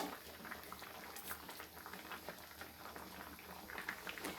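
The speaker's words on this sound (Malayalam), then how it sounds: "അപ്പോൾ നമ്മുടെ മീൻകറി ഇവിടെ നല്ലതുപോലെ തിളച്ചിട്ടുണ്ട്." A pot of Kerala fish curry boils steadily, with soft, continuous bubbling and gentle popping at low volume. There is no speech.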